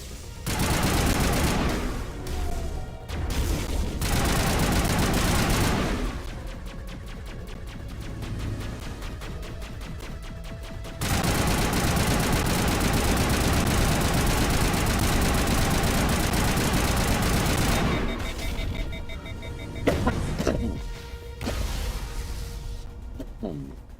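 Sustained gunfire rattles through a firefight in Mass Effect, bursts of automatic shots over a low engine-like drone, with brief gaps and a voice talking at points.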